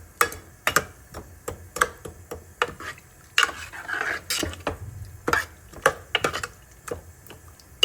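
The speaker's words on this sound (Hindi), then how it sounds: "इसमें राइस डाल दिया है, इनको मिक्स कर लेते हैं।" Rice being stirred and mixed in a cooking pot at home, a series of sharp spoon-on-metal scrapes and clinks in an uneven rhythm, close and fairly quiet with no talking.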